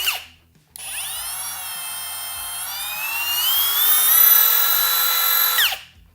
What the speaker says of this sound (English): This does have a soft start and a brake on it so that it stops quickly.